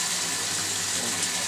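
Water flows steadily from a municipal pipeline in ward 6 of Narsapur, a continuous close rushing gush that holds level throughout without pause.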